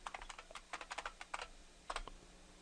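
Keys tapped on a computer keyboard while logging in to Kali Linux in VirtualBox, a quick burst of soft clicks, a short pause, then a few more taps, faint and close with no speech.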